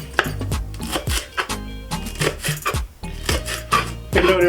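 Six green chillies being sliced lengthwise with a knife on a board, a close, irregular series of sharp chopping taps and short scraping strokes.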